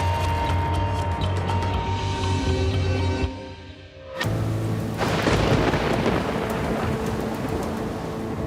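A violent thunderstorm with heavy rain pounds Austin, Texas, a loud steady downpour filling the scene, broken near the midpoint by a brief lull before a sharp thunderclap and a rising, rumbling roar of storm and rain.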